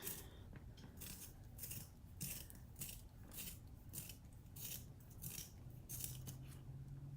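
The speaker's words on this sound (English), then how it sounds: "And now we'll sharpen our pencil." Colored pencil being sharpened, a steady run of rhythmic scraping and grinding bursts repeating about every half second, close and fairly quiet.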